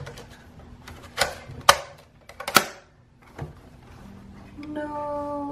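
A Polaroid SX-70 OneStep instant camera mechanism being tested after cleaning gives a few sharp mechanical clicks and snaps, then a steady whirring motor hum near the end, all close up in a quiet room.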